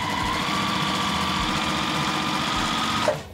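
A sewing machine stitches the sides of quilt blocks together for a disappearing nine-patch quilt, with a continuous close mechanical hum that holds steady for about three seconds and then cuts off sharply.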